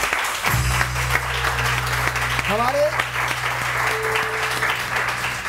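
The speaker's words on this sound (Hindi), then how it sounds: "अलीज़े के लिए बहुत सारी तालियां" An audience claps for a performer named Alizeh at a stage program, a steady round of applause while a voice speaks over it and a low hum runs underneath.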